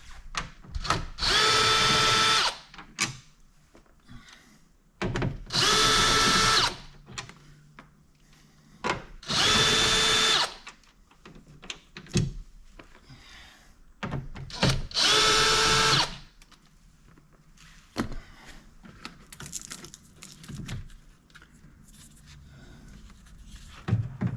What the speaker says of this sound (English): There's just 4 7mm screws to take this speaker off.